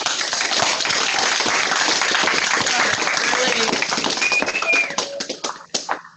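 A warm round of applause for Pro Football Hall of Famer Dan Hampton at an event, dense sustained clapping from a crowd that fades out near the end.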